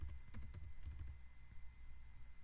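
Quiet clicking of a computer keyboard as someone types a Java class name, with a rapid burst of keystrokes up front that thins out, faint against a low room hum.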